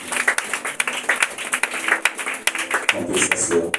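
A church congregation claps and applauds together, a steady patter of many hands throughout, with voices rising near the end.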